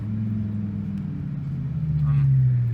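A 2007 BMW M6 with a V10 engine pulling in third gear at low revs, a deep steady drone that swells toward the end, under a driver talking.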